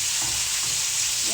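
Steak frying in a pan, a loud, steady close-up sizzle with no pauses.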